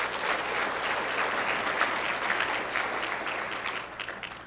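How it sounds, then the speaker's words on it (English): An audience at an executive forum on diversity and inclusion applauds, producing a steady, dense wash of many hands clapping that holds evenly at moderate distance and fades slightly at the end, with no voices on top. "Let's give all of them a big round of applause."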